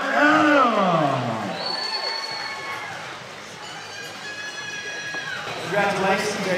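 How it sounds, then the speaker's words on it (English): Crowd applause and cheering fill an arena after a boxing match between Phillip Adams and John Henning, swelling and ebbing steadily with an announcer's voice speaking over it. "Nice round of applause for Phillip Adams."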